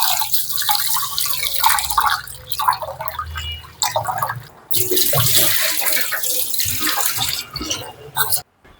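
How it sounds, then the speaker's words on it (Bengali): Lentils being rubbed and rinsed by hand in a bowl of water in a home kitchen, with repeated splashing and sloshing bursts, running tap water, and brief pauses between scrubs. "ডাল ধুয়ে নিয়েছি।"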